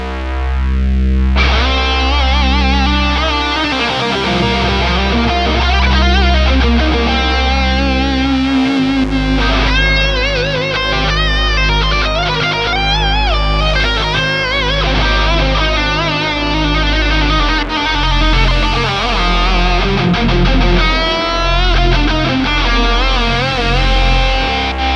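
Synth drone notes from a Fractal AX8 synth block paired with a phaser block: a steady low sustained tone that changes pitch as scenes switch, with a sweeping, swirling texture over it, loud and continuous with no voices.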